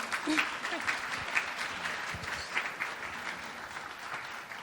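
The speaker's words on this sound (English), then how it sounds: "Please give him a clap for me." A crowd at a Martin Luther King Jr. Day event applauds the incoming MC, a fairly distant, steady patter of many hands clapping with slight swells throughout.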